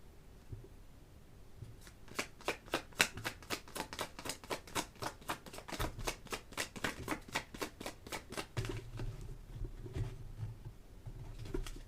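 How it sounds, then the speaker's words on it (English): Tarot cards being shuffled close by: a quick, even run of crisp snapping flutters lasting several seconds, with quieter handling sounds before and after and no talking. "told to keep shuffling."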